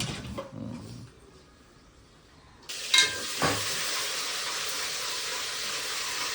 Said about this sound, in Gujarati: અત્યારે વઘાર ચાલી રહ્યો છે